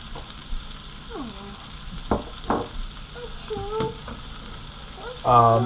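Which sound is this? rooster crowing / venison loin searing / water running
venison loin searing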